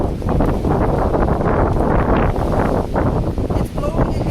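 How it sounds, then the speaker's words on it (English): Strong gale-force wind buffets a microphone on an open ferry deck, a loud, continuous roaring rumble with gusty surges throughout and no speech. "It's blowing a gale."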